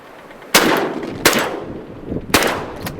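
Shotguns firing at mallard drakes during a windy public-land duck hunt, three sharp, loud blasts spaced under a second apart, each trailing off into wind noise.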